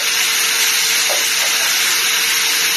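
A thin burger patty sizzles steadily in a hot pan, a loud, continuous hiss with no break.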